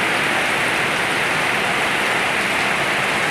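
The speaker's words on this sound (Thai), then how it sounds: "เอาสายฝนนี่แหละ เอาเสียงฝนมาฝากกันเนาะค่ะ" Rain falls steadily on a garden, making a loud, dense, unbroken hiss and patter from nearby with no gaps and no voices.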